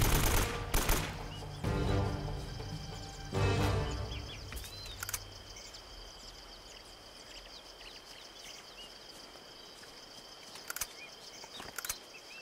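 AK-47 gunfire in the video game Uncharted: loud, rapid automatic bursts fill the first four seconds, then give way to a quieter stretch with a few faint chirps and isolated sharp cracks.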